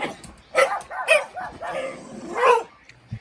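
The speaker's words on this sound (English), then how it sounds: "I thought that was your dogs for a moment." Dogs barking and yipping in several bursts, fairly close, with whimpering tones between barks.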